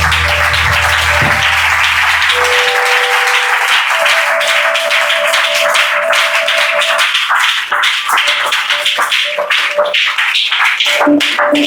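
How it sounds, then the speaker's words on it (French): Seminar audience in a church-style gathering breaks into sustained applause, dense clapping filling the whole stretch with steady loud intensity, with a sustained organ or keyboard chord underneath. "Est-ce qu'on peut encore l'acclamer?"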